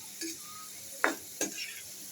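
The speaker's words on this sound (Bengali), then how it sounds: "এই যে আমার পেঁয়াজটা বাদামি কালার হয়ে আসছে।" Onions fry in a pan until browned, giving a faint, quiet sizzle punctuated by two or three distinct scraping clinks of a utensil against the pan, without any speech.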